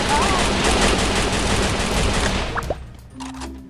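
Dense, sustained gunfire from the mobile battle-royale game Free Fire, a loud continuous barrage that fades out after a few seconds with scattered quieter shots afterward.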